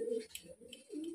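Soft, throaty cooing from Kalshira high-flyer pigeons, a couple of low rolling coos close by in a short, quiet burst.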